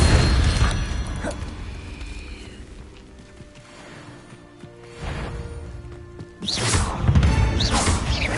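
A fire spell cast in the Hogwarts Legacy video game bursts out in loud, explosive whooshes, one early and two more surging near the end, over a steady rumbling game soundscape.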